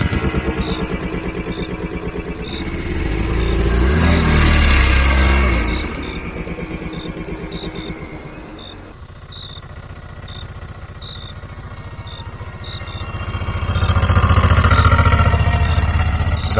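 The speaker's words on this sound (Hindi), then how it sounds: "ऑटो में बैठते ही राजू भाई ने चुपचाप इंजन स्टार्ट किया और बिना ज्यादा कुछ बोले हम वहां से निकल पड़" A cartoon auto rickshaw engine starts and drives off, a loud rattling, puttering motor with a clattering rhythm that swells, dips, and surges again, with a repeating higher ticking tone running over it.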